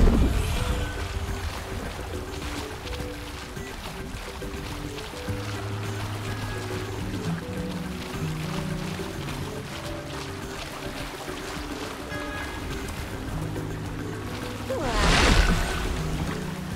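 Water splashing and swirling in the Throne and Liberty video game as a player in water morph form swims, a steady wash of sound with a louder surge near the end.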